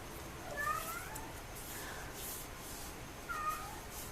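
A house cat meows at a door in a few faint, distant calls, weak against a quiet room background.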